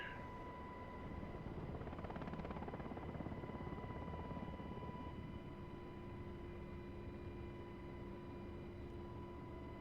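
A UH-60 helicopter taxis in the DCS flight game, giving a steady, droning rotor and turbine roar with sustained whining tones that hold throughout; the pitch shifts slightly partway through and no one speaks.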